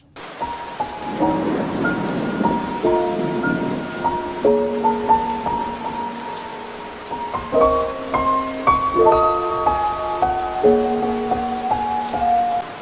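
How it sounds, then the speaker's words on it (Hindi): Steady heavy rain pours down on a car pulled over at the roadside, with a low roll of thunder early on, while soft melodic music plays over it. "बारिश तो बहुत तेज हो रही है।"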